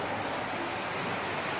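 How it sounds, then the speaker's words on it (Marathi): Heavy rain pours down in a dense, even hiss of countless drops striking surfaces, loud and constant across the brief moment, with no voices. "इकडे पाऊस पडतोय, खूप पाऊस पडतोय"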